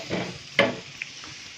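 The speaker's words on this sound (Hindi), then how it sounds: "ये प्याज अभी फ्राई हो रहा है" Onion frying in a pan for anda ghotala makes a soft sizzle, broken by one sharp utensil tap and a couple of faint clicks, all over a brief span.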